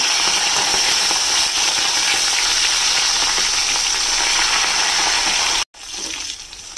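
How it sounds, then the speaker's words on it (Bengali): Fish heads rubbed with salt and turmeric frying in hot oil give a loud, steady, crackling sizzle that runs almost unbroken, then cuts out for a moment before resuming. "প্রথমে নুন হলুদ মাখানো মাছের মাথাগুলো আগে একটু ভেজে নেব।"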